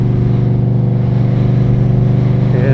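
An Indian motorcycle with an aftermarket exhaust, performance intake and tune running: a loud, deep, steady engine rumble with a pulsing throb, close and continuous, rising slightly at the end.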